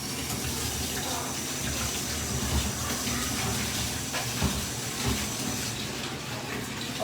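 Tap water runs steadily as food is rinsed in a plastic strainer in a kitchen, a continuous loud hiss and splatter with small bumps of handling.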